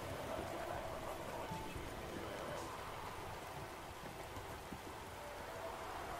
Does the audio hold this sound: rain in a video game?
yes